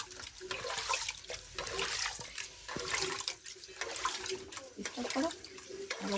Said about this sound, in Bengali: এবার জল দিয়ে ভালো করে কষলে কষলে ধোবো এটা হচ্ছে গিয়ে নতুন ধানের চাল